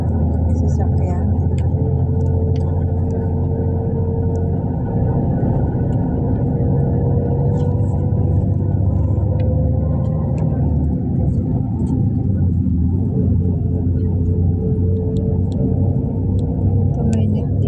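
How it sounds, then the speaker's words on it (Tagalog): A vehicle passes on a road, a loud, sustained low engine rumble that swells and eases over many seconds, with people talking under it. "Sasakyan."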